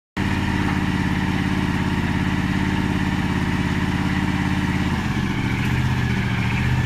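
A small tractor engine runs steadily close by, a continuous chugging idle with a rhythmic low putter that shifts slightly near the end, with no talking over it.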